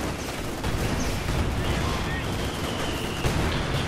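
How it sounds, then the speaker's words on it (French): Artillery barrage in the World War II strategy game Company of Heroes 2, a dense continuous roar of rumbling blasts and crackling gunfire, loud and sustained throughout. "Ça reste un barrage d'artillerie de Suka"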